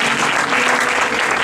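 A church congregation applauds together in a loud, dense, steady burst of clapping from a whole crowd filling the room.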